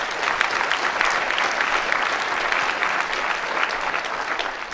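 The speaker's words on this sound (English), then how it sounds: "Clap that up" Steady, full applause from a live audience at a talk event, continuous dense clapping at an even level throughout without any voices.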